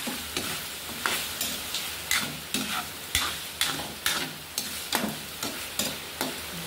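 Chicken curry seasoned with black pepper is stirred in a pan, a spoon scraping in a regular rhythm of about ten strokes over a continuous sizzle. Close and clear, with no talking.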